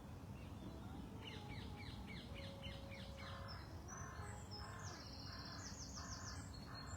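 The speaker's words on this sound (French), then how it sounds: "on va aussi se concentrer, nous, sur le bruit des oiseaux." Outdoor birdsong: a series of quick repeated chirps followed by rhythmic phrased calls and a caw, faint over a steady background rumble.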